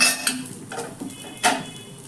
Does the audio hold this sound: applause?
no